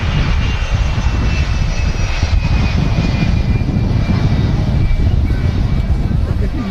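Jet2 aircraft engines roll out at Manchester Airport as a steady, loud broadband roar with a faint high whine, continuous throughout, with a voice talking over it.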